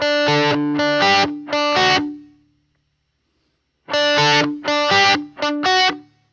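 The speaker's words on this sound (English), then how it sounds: "I'm going to give you a dry strum of the riff I'm going to play you." Electric guitar riff played without effects, ahead of a Strymon Flint reverb demo: two sets of sharp strummed chords, each group of quick hits ringing briefly, separated by a silent gap, clean and alone.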